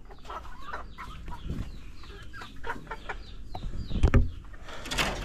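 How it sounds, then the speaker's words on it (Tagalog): Hens cluck in a coop during egg-laying time, a close, busy chorus of short, repeated clucks and squawks, with one louder burst near the end. "Ganitong oras yung pangingitlog ng ating mga manok"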